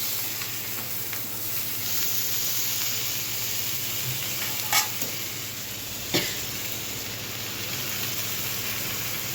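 Tomatoes sizzle steadily in a hot frying pan in a home kitchen, a continuous close crackling hiss broken by a couple of sharp metallic taps, with no voices.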